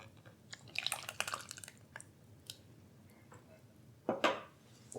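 Wet ingredients go into crumbly, butter-rubbed gluten-free dry pancake mix for lemon ricotta pancakes, with soft drips, wet squishes and light bowl and utensil clatter, quiet and close.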